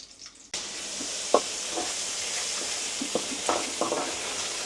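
Ginger garlic paste sautéing in a hot pan with green chillies and curry leaves, a steady close sizzle with a few soft spoon scrapes and stirring clinks, no talk.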